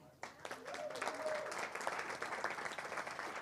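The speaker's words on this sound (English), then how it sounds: "So let's give them a big clap." A small crowd at a poker tour final table in Malta claps for the event sponsors in a short burst of scattered, fairly faint applause with voices mixed in.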